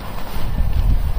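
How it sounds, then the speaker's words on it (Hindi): Strong wind buffets a tent at a solo night camp in a forest, a loud, gusting roar that rises and falls over about a second, with no speech. "देखो कितनी तेज हवा है, मेरा पूरा टेंट उड़ उड़ जा रहा है यार"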